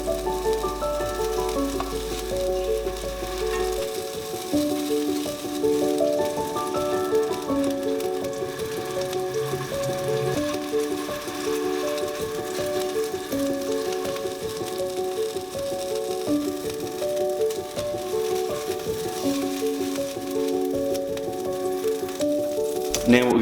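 Beef fillet sears in a hot pan for carpaccio, a loud steady sizzle and crackle running throughout, with faint background music tones layered underneath and occasional turning sounds.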